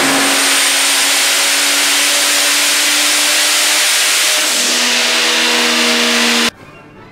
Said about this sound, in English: Next, we ran the car at 26 PSI.